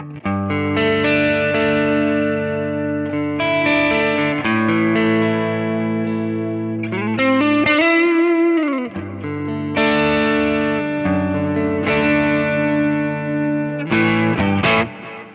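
Electric guitar played through a Cortex amp capture set to low gain, with the bass raised slightly and the mids pulled back. Clean, ringing chords and single notes sustain loud and steady throughout, with no talking.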